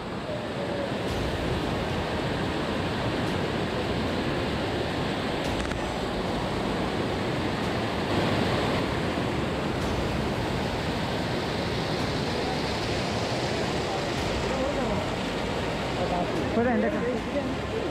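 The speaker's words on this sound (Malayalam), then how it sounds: "ലെഫ്റ്റ് സൈഡിലാണ് വെള്ളരിമല വെള്ളച്ചാട്ടം." The Vellarimala waterfall and its stream rush in a continuous, loud broadband roar mixed with wind buffeting, steady throughout with no clear breaks.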